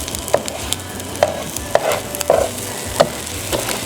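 Scrambled eggs cook in a frying pan with a soft steady sizzle, broken by several clicks and scrapes of a utensil stirring and turning them, no voices.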